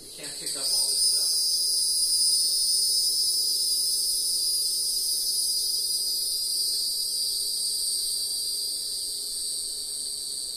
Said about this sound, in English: we're lucky that the 17-year cicadas, of which there are millions at any time when they're out, that they're not as loud individually